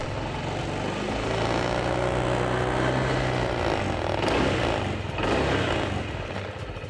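A Honda PCX 160 scooter's 160cc engine idles steadily with a low, even rumble and faint mechanical hum throughout, no voices.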